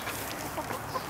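Hens cluck softly in a PVC chicken coop, brief low clucks close by over faint background noise.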